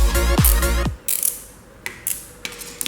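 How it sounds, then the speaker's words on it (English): Zip ties being cinched tighter by hand around hex nuts and a bearing while building a DIY fidget spinner: a dense burst of fast ratcheting clicks, then a few short, sharper zips spaced apart, close and fairly loud. "Now you're going to keep pulling it smaller until it fits around your 3 nuts and your bearing."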